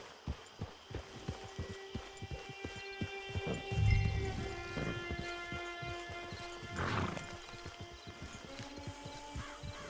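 Horse sounds from the video game Red Dead Online, with hoof clops and a couple of whinnies over a steady tonal background; no talking.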